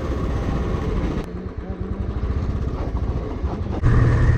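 A motorcycle on a Delhi to Manali ride rolls through a tunnel, its engine a loud, steady enclosed drone with a rattling beat that surges louder near the end.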